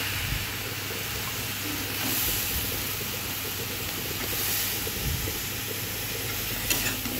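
Food frying in a pan with turmeric and salt, giving a steady close sizzle and hiss with occasional stirring scrapes throughout, no voices.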